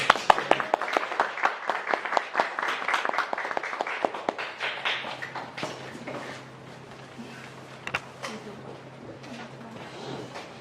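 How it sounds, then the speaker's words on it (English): An audience at a school talk event applauds to welcome two high school girls as speakers, with dense clapping that is loud at first and then thins and fades out over several seconds. "please let's all welcome Eunjoo and Park with a big round of applause"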